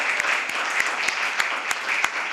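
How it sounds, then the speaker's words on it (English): Warm applause from a small forum audience in a rented hall, a steady wash of clapping with a few sharper individual claps standing out at irregular intervals. "you always applaud warmly with appreciation"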